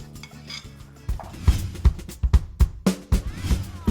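Spinach salad ingredients tossed and stirred in a bowl, with a run of close, distinct clinks and soft knocks of utensils against the bowl growing busier after the first second.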